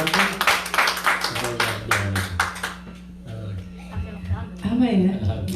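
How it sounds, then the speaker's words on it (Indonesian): A church congregation claps together at a Sunday service, the applause briefly dense and fairly close before it thins out beneath a speaker's voice and light murmuring. "berikan tepuk tangan dulu untuk Tuhan"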